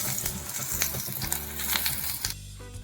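Ingredients for mutton sherva frying until brown in a pan make a loud, close, continuous sizzle with stirring scrapes, ending in a sudden drop as the heat or motion changes.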